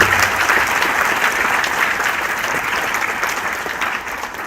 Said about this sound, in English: Please don't let the applause die.